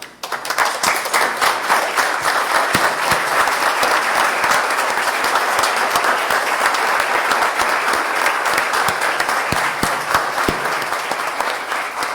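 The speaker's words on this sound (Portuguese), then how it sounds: "uma salva de palmas aos 5 homenageados hoje nessa casa" Sustained applause from legislators standing for five honorees at a solemn city council session, dense, even clapping that fills the room loudly from start to finish.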